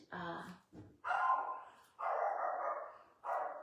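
A pet dog barks indoors at ice sliding off the house roof, giving several loud, close bursts of barking separated by short pauses across a few seconds.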